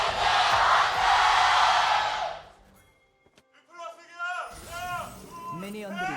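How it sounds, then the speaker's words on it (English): A rival fan cheer battle in an esports arena during a League of Legends match, with a loud crowd roar that fades out, then rhythmic chanting voices rising and falling in call-and-response bursts. "it's a cheer battle in here"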